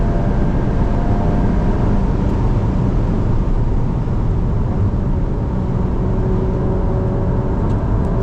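A 2025 Volkswagen Golf R's engine pulls hard under acceleration, a steady, loud low-frequency drone with road and wind noise heard from inside the cabin, unbroken for the whole stretch.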